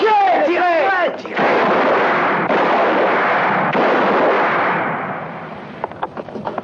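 Gunshots ring out in a French-dubbed western film, a rapid burst of loud, echoing blasts that merges into a sustained roar of gunfire and then fades into scattered later shots, with a shouted voice at the start.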